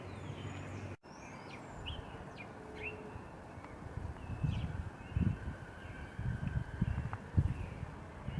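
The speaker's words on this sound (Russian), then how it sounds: "Тихо вокруг, только птичек слышно." Birds chirp and whistle in short scattered calls across a quiet residential street in Barrio San Jorge, Asunción, over a low steady background hum with faint rustling.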